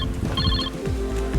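A short electronic phone ringtone chimes in a brief tonal burst over a low background hum.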